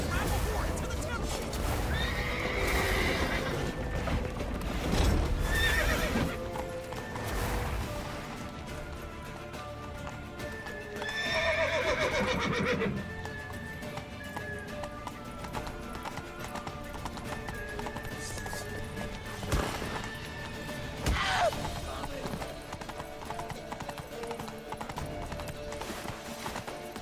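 In The Witcher 3, a horse whinnies and neighs loudly while hooves clip-clop at a run, with shouting voices and game music mixed in around the horse sounds.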